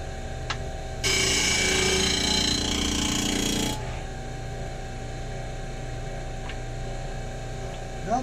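A wooden segment has its sides lightly sanded on a sanding sled, giving one loud, rough, even burst of about three seconds over a steady shop hum that continues afterward.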